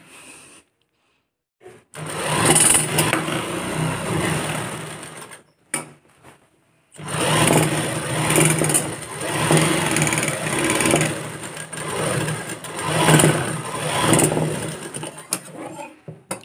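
A sewing machine runs fitting stitches at one-inch spacing on a seven-year-old girl's tail-cut top: a steady mechanical whirr in two long runs, a short one, then a pause, then a longer stretch with slight pulsing.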